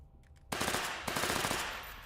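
A low-recoil gun fires in a VR shooter game, a rapid burst of close, sharp reports in quick succession after a quiet start, pausing briefly before a second fast volley.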